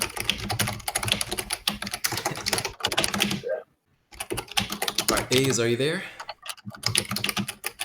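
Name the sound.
computer keyboard typing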